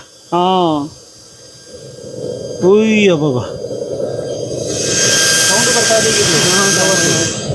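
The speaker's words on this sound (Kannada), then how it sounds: "ಈಗ ಇದು ಆನ್ ಮಾಡಿದ ತಕ್ಷಣ ಅಲ್ಲಿ ಬ್ಲೋವರ್ ಸ್ಟಾರ್ಟ್ ಆಗುತ್ತೆ." The electric blower on a wood-burning firewood stove runs with a steady whirring hum that swells louder partway through. Voices speak briefly at the start.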